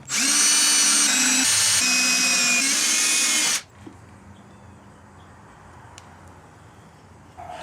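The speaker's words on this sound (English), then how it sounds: "Set the step drill bit to the appropriate depth from this little recessed point to here. Then you drill." A power drill with a step drill bit whines loudly and steadily into wood for about three and a half seconds, then cuts off, leaving quiet room noise with a faint click.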